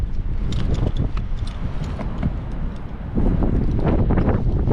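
Strong wind at an abseiling site, buffeting hard against the microphone in a continuous rumbling roar, with faint clicks of gear in the background.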